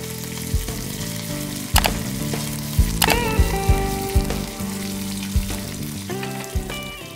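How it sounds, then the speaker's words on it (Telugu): Urad dal, mustard seeds, cumin, sliced dried red chillies and curry leaves sizzle in hot oil for a raw banana chutney tempering, with steady crackling, sharp pops and spattering throughout and no voices. "1 టీ స్పూన్ మినపప్పు, 1/2 టీ స్పూన్ ఆవాలు, 1/2 టీ స్పూన్ జీలకర్ర, ముక్కలుగా కట్ చేసుకున్న 2 ఎండుమిర్చి, 2 రెమ్మల కరివేపాకు వేసుకొని వేయించుకోవాలి"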